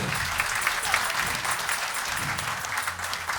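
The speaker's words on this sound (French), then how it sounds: "Allez, on l'applaudit." Dense, even applause from a concert audience, continuous clapping holding steady at a fairly loud level across the whole stretch with no voices standing out.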